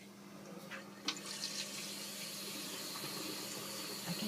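Cold tap water, turned back on after installing a water ionizer, runs steadily into a sink. The hiss is faint and continuous, with a couple of small splashes near the start and no talking.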